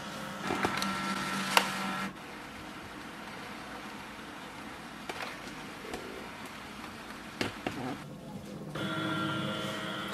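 An HP ENVY Inspire 7924e printer scans a document, giving a mechanical whir broken by clicks and knocks and a rising motor tone near the end, close and moderately loud.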